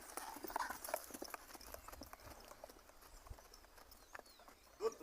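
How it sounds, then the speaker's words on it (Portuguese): A young horse trots after breaking, its hooves striking in a quick, even clip-clop rhythm, fairly quiet and somewhat distant, with a louder knock near the end. "Ele voltou pro trote."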